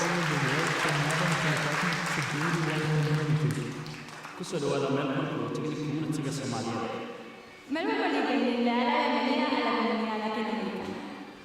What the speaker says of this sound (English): what about a large round of applause?